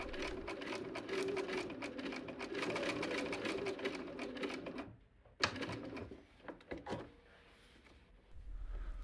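A sewing machine runs steadily, stitching fabric diagonally while sewing a vanity case or bag, with a continuous close whir that stops abruptly midway before a few short bursts resume.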